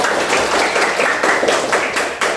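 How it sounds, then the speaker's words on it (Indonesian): A classroom of students claps for a group after its presentation, a short burst of moderately loud, slightly uneven hand claps filling the whole moment. "Silakan tepuk tangan semuanya untuk kelompok Adam."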